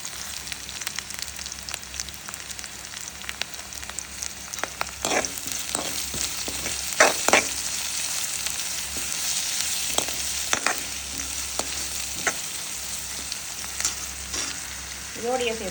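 Onions sizzling in oil in a pan for Tamil-style prawn curry, a steady close fry with scattered scrapes and clinks of stirring throughout.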